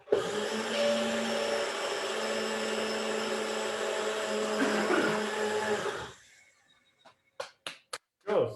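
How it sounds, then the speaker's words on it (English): A NutriBullet blender whirs steadily as it grinds oats to a fine crumb, a loud continuous motor roar for about six seconds that cuts off abruptly, followed by a few sharp clicks and taps. "So we're going to pop our oats into the blender."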